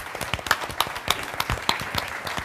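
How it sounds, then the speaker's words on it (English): Conference audience applauding a speaker being introduced at a plastics research and advocacy forum, a steady patter of many hands clapping throughout, moderately loud, with no talk over it. "So a big round of applause for Joe Gresco."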